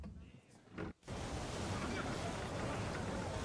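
A storm at sea in Assassin's Creed 3, with a broad, steady roar of wind and crashing waves that swells loudly after a brief quieter moment, while people talk.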